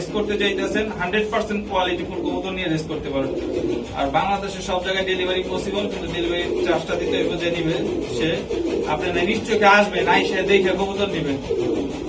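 Racer pigeons coo in low, repeated throaty calls close by while a person talks over them.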